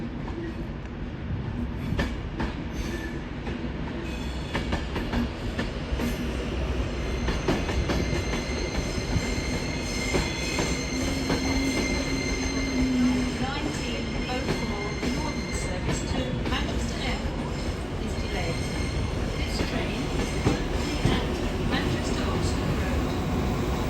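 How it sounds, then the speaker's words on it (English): Trains roll through the platforms of Manchester Piccadilly station, with a continuous rumble, clattering wheels and a brief squeal of metal, steady and close, while a voice talks intermittently over the noise. "there are trains just going in through the station constantly"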